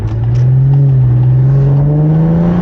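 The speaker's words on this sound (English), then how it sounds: "when it's in sport, it downshifts more aggressively." An Infiniti Q50 in sport mode downshifts, its engine note a loud, close, steady drone that rises slightly in pitch as revs climb.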